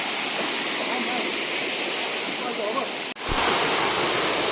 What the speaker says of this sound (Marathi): धबधबा का इकडे मस्तपैकी